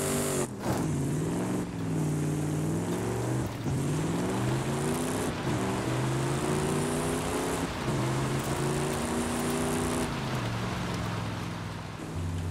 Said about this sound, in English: after the first seconds now, the engine sounds really nice